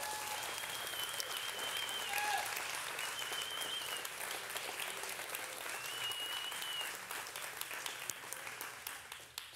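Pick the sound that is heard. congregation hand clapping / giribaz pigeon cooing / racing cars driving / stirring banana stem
congregation hand clapping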